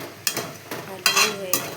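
Eggs go into a pan of frying potatoes and are stirred, giving soft scraping and clinking strokes that come at a steady pace over a faint sizzle.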